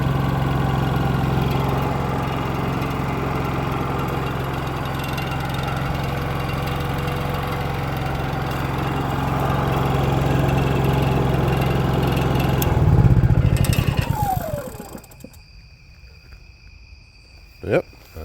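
Honda EU3000is generator engine with a freshly replaced carburetor, running steadily at a close, even hum for about thirteen seconds before it cuts out and a few faint clicks follow.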